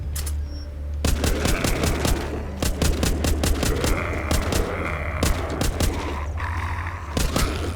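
Rapid automatic gunfire in The Walking Zombie 2 video game, loud bursts of sharp repeated shots with brief pauses between volleys, played continuously over a low steady game background hum.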